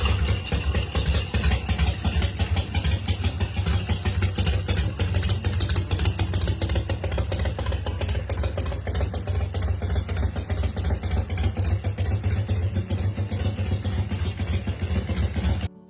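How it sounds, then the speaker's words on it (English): A 2007 Big Dog Mastiff motorcycle with a 117 cubic inch S&S V-twin idles steadily, a deep constant low rumble with a lumpy pulse, close and loud, with no voices. "This 2007 Big Dog Mastiff packs a 117 cubic inch SNS V twin engine, roaring with power and precision."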